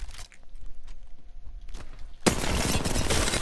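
R301 rifle fire in the Apex Legends video game, heard as a sudden loud, dense stretch of rapid gunfire after a quieter lead-in with faint game sounds.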